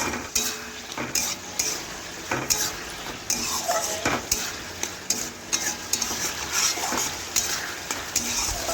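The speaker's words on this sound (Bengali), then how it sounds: "আমি যেটুকু জল আছে সেটাও কিন্তু খুরপি দিয়ে এইভাবে নাড়াচাড়া করতে করতে দেখুন শুকিয়ে নেব কড়ার মধ্যেই" Potato and pointed gourd curry stirred with a metal spatula in a wok, a steady run of close scraping clatters over a soft continuous sizzle, with no talking.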